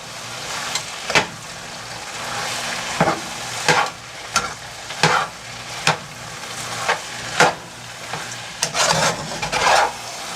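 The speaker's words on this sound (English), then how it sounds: "You want to mix it all up." Stuffed pepper filling being mixed in a pan, regular scraping strokes of a spoon roughly once a second over a soft sizzle, close and without talk.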